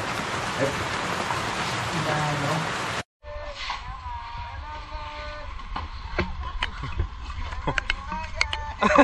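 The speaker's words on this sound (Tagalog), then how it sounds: "Ulan." Rain at a seaside resort in Dingalan, Aurora, first a steady dense hiss, then after a brief cut a lighter patter with scattered drops and background voices.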